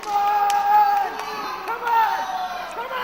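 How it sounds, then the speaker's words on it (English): Wrestling fans cheering and shouting at an All Star Wrestling show, a steady crowd roar with raised voices swelling throughout under a commentator's talk. "you hear the fans once again cheering for Jonny"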